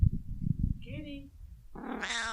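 A pet cat meows in a quiet room, low rustling and a breathy purr-like murmur first, then a short chirp and a louder drawn-out meow at the end, fairly close.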